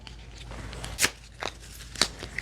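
A deck of prompt cards is shuffled by hand, giving a few quick papery riffles and soft crunchy snaps spaced about half a second apart, close and quiet with no voice.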